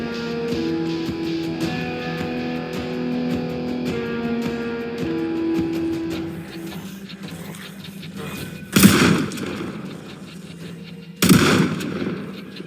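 Gunshots ring out in the zombie survival game Project Zomboid: two sharp, loud blasts a couple of seconds apart, following a stretch of sustained tonal game ambience.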